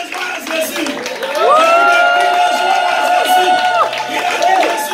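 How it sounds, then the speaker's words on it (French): A church congregation at a French-language sermon lets out loud, sustained shouts and cries of joy, a crowd roar that swells and holds for several seconds with a few voices rising above the rest. "Je vais entendre des cris de joie."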